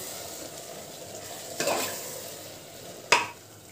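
Brinjal masala is stirred and fried in a pan. A soft steady sizzle runs throughout, with two sharper scraping stirs standing out, and no one speaks.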